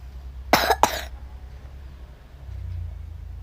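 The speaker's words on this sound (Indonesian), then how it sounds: "Batuk banget." A person coughs twice in quick succession, close and sharp, followed by a quiet stretch and low background rumble.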